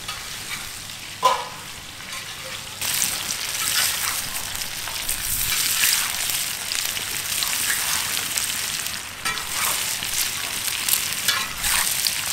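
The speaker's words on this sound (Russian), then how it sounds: "Все это перемешиваем" Potatoes and meat for Georgian ojakhuri fry in a pan and are stirred, a loud continuous sizzle that swells after an early metallic knock, with scraping stirs recurring over the hiss.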